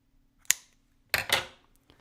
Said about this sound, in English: We'll go in with our nice scissors to cut this down.